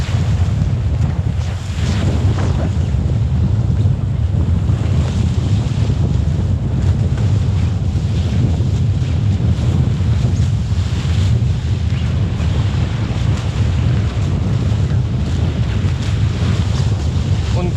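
Strong, steady wind roars across a Nacra 570 catamaran sailing close-hauled in force 5–6 winds, with waves and spray rushing against the hulls throughout. The sound is loud, continuous and close, with no talking.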